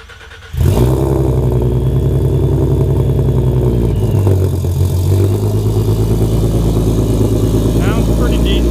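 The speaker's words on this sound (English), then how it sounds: "cold start." A ProCharged Ford Mustang with catless exhaust cold-starts close by: a sharp crank and catch, then a loud, raspy, steady high idle that holds with only slight wavering.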